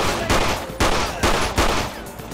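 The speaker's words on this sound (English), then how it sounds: "Shots are fired. Shots are fired." Rapid bursts of gunfire from a GTA police roleplay shootout, four or five loud volleys in quick succession with short gaps, dense and close, no talking.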